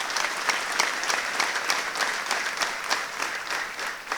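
A church congregation applauds its teachers: a dense, steady patter of many hands clapping together, moderately loud and continuous, with faint voices underneath.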